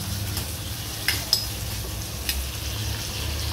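Chopped onion and tomato roasting with masala in a pan for chole, a low continuous sizzle broken by a few light clinks and scrapes of a spoon against metal, with no one speaking.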